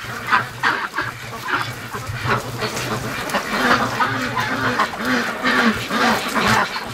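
A flock of free-range ducks in a barn bedded with fresh straw keeps up dense, overlapping quacks, loud and close with several birds calling at once throughout.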